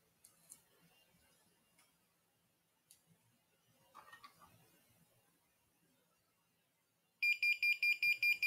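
Flame-triggered fire alarm system, heard as near-silent faint rustles and taps followed by a loud, rapid series of piercing electronic beeps that begin abruptly and repeat steadily to the end.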